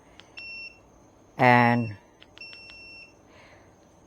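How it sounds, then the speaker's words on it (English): A Cybertake S2 Pro portable air conditioner gives short electronic beeps while switching modes, several single and paired tones spaced apart; someone briefly speaks in the middle. "as you can hear the audible alarms telling you you're switching through the different modes"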